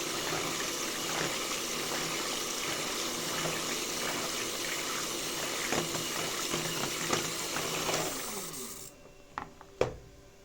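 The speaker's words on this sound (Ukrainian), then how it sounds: "виливаємо пів літри молока. і перемішуємо" Half a litre of milk pours steadily into a bowl of pancake batter, a continuous close liquid stream that stops near the end, followed by a few clinks of stirring.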